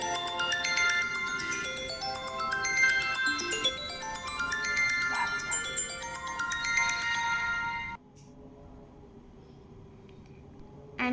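An iPhone SE from 2020 plays its By the Seaside ringtone, a bright melodic pattern of rising chime notes heard clearly for about eight seconds before cutting off to quiet room tone.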